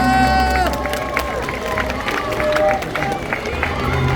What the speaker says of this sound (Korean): 수고하신 3분 후보자님들께 큰 박수 한번 보내주시기 바랍니다